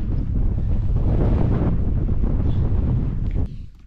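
Strong wind buffets the microphone at a mountain bivvy camp on Great Gable in the Lake District, a loud continuous roar that drops off sharply at the end.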